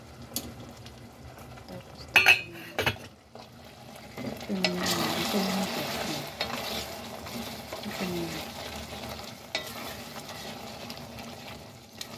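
A pot of broth simmering on the stove and being stirred, with a few sharp clatters early on, then a steady bubbling, stirring wash of sound over a faint background.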